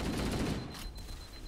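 Dense, rapid gunfire rattles in Halo, a sustained burst of overlapping shots with a brief lull near the end, close and loud with no talking.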